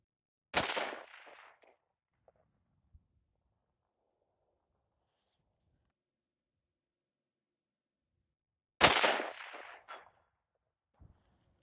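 Two rifle shots fired at a range while a scope is sighted in, each a sharp loud crack with a short ringing decay, spaced about eight seconds apart, with faint handling clicks between them.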